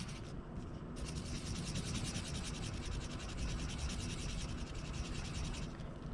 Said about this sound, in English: I'm going to draw just two big nostrils down here